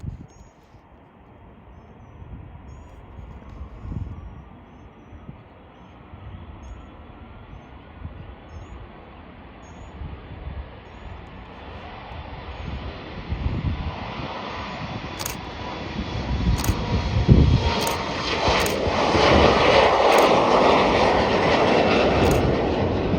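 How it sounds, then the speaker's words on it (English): A United Express Embraer E175 jet operated by SkyWest heads for San Francisco, its engine roar building slowly from a faint distant hum to a loud, broad rushing whine with a high-pitched tone. "we do have the United Express Embraer E175 operating at SkyWest in the Continental Globe livery heading to San Francisco International Airport"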